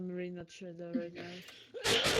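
A sharp, explosive sneeze bursts out right at the end, just after a person speaks briefly.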